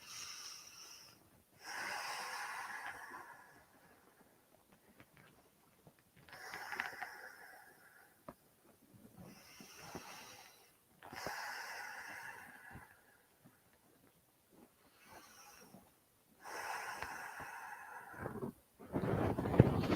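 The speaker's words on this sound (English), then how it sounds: "take big deep breaths, compressing your rib cage and diaphragm as you breathe into that area" Slow deep breaths during a hip stretch, each long inhale and exhale heard close to the microphone in a regular rhythm of roughly five breaths, with quiet pauses between them.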